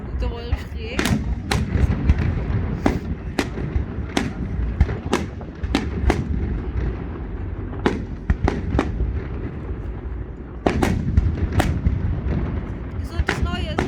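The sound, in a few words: fireworks exploding at Dresden city festival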